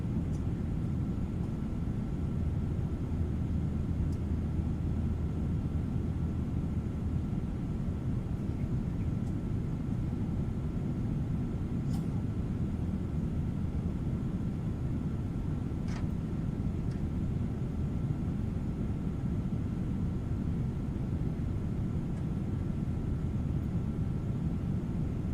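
A FedEx airliner at flight level 290 in Microsoft Flight Simulator gives a steady low cockpit rumble and hiss, unchanging throughout, with a few faint clicks.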